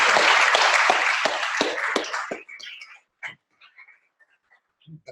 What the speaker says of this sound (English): maybe we can give Rafa a clap